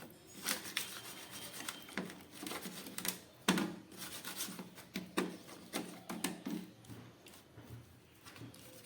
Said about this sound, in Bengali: দিয়ে মাছটাকে আমি খুব ভালো করে মাখিয়ে নিচ্ছি।